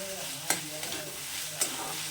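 Vegetables stir-fried with spices in a pan for a vegetable dal, a steady close sizzle with a few sharp spatula scrapes and knocks, no voices.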